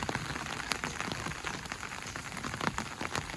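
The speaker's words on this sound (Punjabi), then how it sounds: "ਮੈਂ ਛਤਰੀ ਲਈ ਹੋਈ ਆ ਉਹਦੇ ਉੱਤੇ ਛੱਟੇ ਪੈ ਰਹੇ" Dense raindrops patter and tap on an umbrella close overhead, a steady crackling spatter with scattered sharper hits, and no voices.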